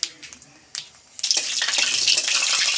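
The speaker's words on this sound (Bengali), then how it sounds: "একটা শুকনো লঙ্কা ফোড়নে দিয়ে দিলাম" Dried red chili and nigella seeds sizzle in hot oil in a wok, a soft crackle that swells into a loud, steady frying hiss partway through, with no voices.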